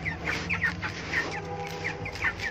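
White broiler chickens cluck steadily and fairly close while pecking at feed, with repeated short calls over a low farm background.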